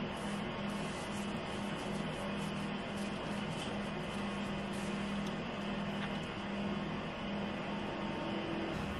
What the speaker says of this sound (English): that's our heater because it's winter